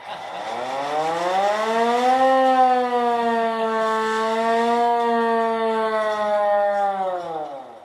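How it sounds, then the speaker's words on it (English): A loud manual hand-cranked fire siren winds up to a steady, wailing howl, holds for several seconds, then begins to wind down, at a car museum. No voices. "they have the siren, and it's a manual siren,"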